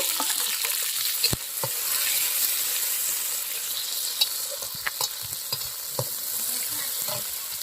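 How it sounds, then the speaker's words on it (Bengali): Onions sizzle steadily in hot oil in a pan with cumin, chilli and bay leaf, with the clinks and scrapes of a spoon stirring them close by. "পেঁয়াজটাও হালকা করে ভেজে নেব।"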